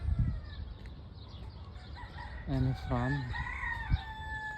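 Chickens call out on a village farm, with a couple of loud, drawn-out squawking cries in the middle over a low background murmur and a brief spoken word.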